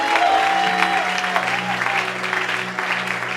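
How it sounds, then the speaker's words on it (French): A church congregation applauds during a sermon: a continuous wash of clapping and crowd noise at full level, with sustained tones and voices mixed underneath. "Est-ce qu'on peut acclamer le Seigneur Dieu?"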